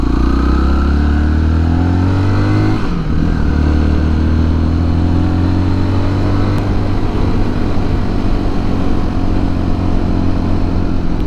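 On a shaded forest road in Macedonia, a motorcycle and a car pass each other, their engines humming and shifting in pitch as they go by, loud and near, with no talking.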